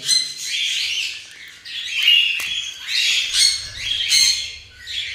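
A pet cockatiel gives repeated shrill squawks in several bursts, loud and close, with no other sound between the calls.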